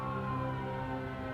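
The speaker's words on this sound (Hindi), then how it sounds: "एम्बुलेंस अभी पहुंच जाएगी" Ambulance siren in an action drama, a steady droning tonal wail held at even loudness for the short stretch, with no talking.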